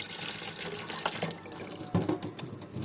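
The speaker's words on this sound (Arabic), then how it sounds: "احط عليها خل كده وانجعها." Vinegar is poured over washed greens sitting in water, a close, running splash and trickle of liquid with a few gurgles and drips, one brighter burst of pouring near the middle, and no speech.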